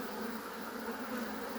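Honey bees buzz steadily around an open beehive during an inspection by a Nigerian beekeeper, a dense, continuous hum close by with no talking.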